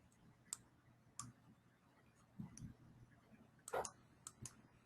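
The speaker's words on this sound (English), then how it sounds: "So I'm clicking on OK." A computer mouse gives several sharp, isolated clicks spaced about a second apart, close and soft against a quiet room, with one slightly louder click near the end and no talking.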